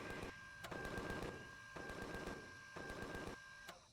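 Far-off automatic gunfire in the space survival game Empyrion: Galactic Survival, quiet rapid bursts of shots repeating in short rhythmic volleys, with a thin electronic tone running underneath.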